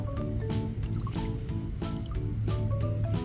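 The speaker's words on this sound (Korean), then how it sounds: "이렇게 바닷물을 담았습니다" Seawater is poured into a container of ragworms kept as fishing bait, giving a steady close trickle and splash with drips and faint knocks throughout.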